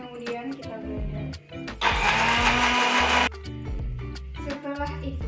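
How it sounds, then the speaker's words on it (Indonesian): An electric blender whirs loudly for about a second and a half, grinding sambal ingredients of coconut oil, shrimp paste and lemongrass, with people talking before and after. "Kemudian kita blender."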